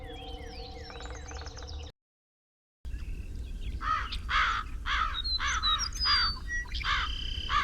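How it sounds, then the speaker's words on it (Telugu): Several crows caw in repeated harsh calls outdoors, loud and close, some overlapping, after a short stretch of other bird calls and a brief gap of silence. "ఉదయం నుంచి కాకులు అరుస్తున్నాయి"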